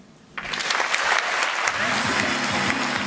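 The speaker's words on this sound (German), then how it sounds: "Hier Applaus, meine Damen und Herren" Audience applause bursts out after a poetry slam performance, dense clapping filling the room, with a host's voice starting to speak over it near the end.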